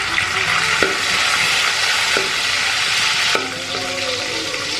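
Raisins sizzle and crackle in hot fat in a pan for cherupayar parippu payasam, a steady loud frying hiss with a few stirring scrapes, no talk.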